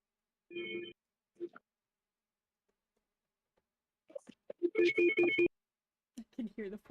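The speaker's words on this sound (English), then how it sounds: "I can hear the phone ringing." A telephone rings in short, separate bursts: two brief trills, a silent gap, then a longer ring and a few weaker ones at the end. The ringing is faint and there is no talk.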